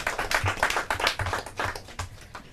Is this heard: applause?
yes